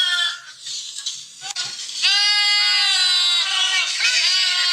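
Goats scream loudly in long, harmonic, human-like wails, first several shorter cries, then one sustained shrill scream, close and clear.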